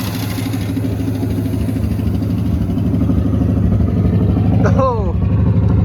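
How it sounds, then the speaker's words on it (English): Old jet-age barn-find car engine idling roughly with a steady mechanical clatter from noisy lifters, continuous and close, with a brief sharp squeal near the end. "You can really hear those not happy lifters."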